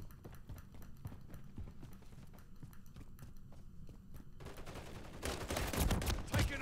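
Rapid automatic gunfire in the Call of Duty: Modern Warfare 3 video game, a run of quick rhythmic shots followed by heavier, louder bursts and rumbling toward the end.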